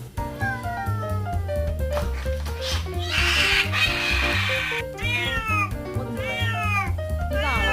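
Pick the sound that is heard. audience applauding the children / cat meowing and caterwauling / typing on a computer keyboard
cat meowing and caterwauling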